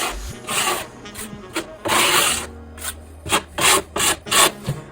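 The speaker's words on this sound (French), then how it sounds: "on va appliquer une deuxième passe pour avoir une finition" Fine lime plaster applied as a second smoothing pass with a trowel, heard as close, scraping rubs that come in irregular strokes at first and then settle into a faster run of short, even swipes.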